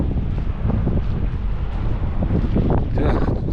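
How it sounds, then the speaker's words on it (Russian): Strong gusty wind buffeting the microphone outdoors in cold, wet weather, a loud continuous low roar with surging rumbles and no speech. "Блин, ветрище такое."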